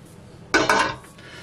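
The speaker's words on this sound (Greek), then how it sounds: "Ανακατεύουμε" A utensil clinks and scrapes against a bowl as spinach is stirred into a flour batter, two quick close knocks in succession over a quiet background, with no voices.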